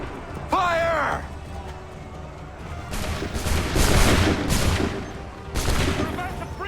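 Ragged musket volleys roar and crackle in Assassin's Creed III, swelling in bursts behind shouted voices and battlefield commotion.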